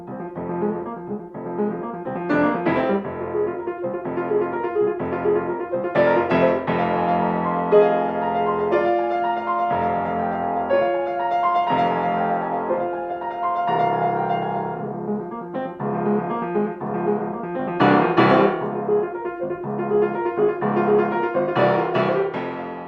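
Solo piano performs a dramatic, driving passage of rapid repeated notes and strong chords, clear and close throughout with shifting dynamics and no talking.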